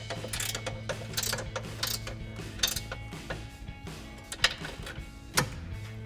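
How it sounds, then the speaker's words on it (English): An 18mm ratcheting wrench tightens a bolt on an adjustable rear upper camber arm of a 2006-2023 Dodge Charger, giving repeated close mechanical clicks in short bursts with small metallic clanks between. "tighten up the inside one using our two 18mm wrenches. And as you can see, I found an 18mm ratcheting wrench"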